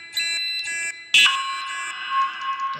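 A fire alarm sounding inside a Roblox mansion game: two short electronic tone pulses, then a louder, continuous harsh alarm tone that holds steady, close and prominent.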